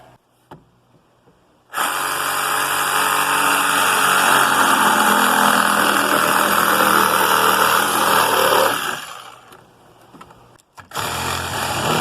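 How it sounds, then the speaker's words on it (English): A handheld power saw trims about 1.5 inches of overhang off a wall tent platform at elk camp, a loud steady whine running for roughly seven seconds before cutting out, then a brief restart at the end. "We're going to see if this saw is going to get the job done."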